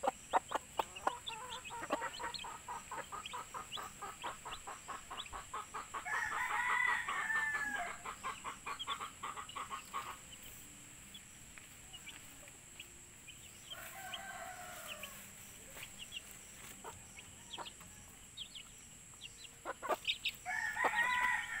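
Chickens with young chicks, a rooster crowing several times and hens clucking amid rapid cheeping, close and moderately loud over a faint steady background hum, with no talk.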